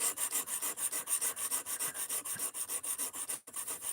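A knife blade is drawn repeatedly across a sharpening stone or guide at a fixed angle, producing steady, rhythmic rasping strokes, close and fairly quiet, with a short pause near the end.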